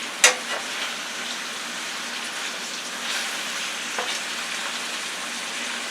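Peppers and onions sizzle and crackle steadily in a hot, full frying pan, a dense, even hiss with a sharp click near the start.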